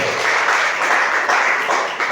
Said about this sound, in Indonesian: Tepuk tangan dulu yang terbaik